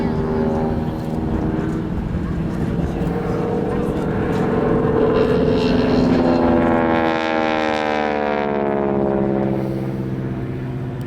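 A Blue Angels jet roars overhead at an airshow homecoming, a loud sustained engine drone with shifting pitch as it passes, while someone talks over it.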